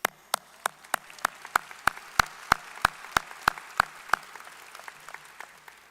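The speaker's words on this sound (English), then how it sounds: "We can clap for you, that's fine" At the Roosevelt High School 2023 graduation ceremony, one nearby pair of hands claps in a steady, even rhythm, about fourteen sharp claps, over a soft, distant wash of crowd applause that carries on after they stop.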